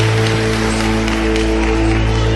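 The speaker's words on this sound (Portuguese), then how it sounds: "Os que podem, tomem o seu assento aplaudindo a Jesus, porque Ele é bom, porque Ele é maravilhoso." Church congregation applauding during a worship service, a dense, steady wash of clapping that fills the space, loud and continuous under a sustained musical drone.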